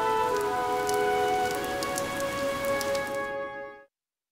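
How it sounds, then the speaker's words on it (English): Steady rain in the video game Fire Emblem: Three Houses patters on a hard surface for several seconds, with a faint tonal hum underneath, then cuts off abruptly near the end. "This rain threatens a coming storm."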